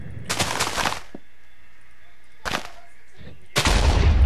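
Three heavy booming blasts, pirate-ship cannon fire from a video game, each a short loud burst separated by brief quiet gaps.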